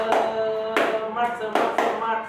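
Rhythmic 'tepuk smart' hand clapping from a school group, four sharp bursts of claps in a short patterned sequence, fairly close with a slight echo and no talking.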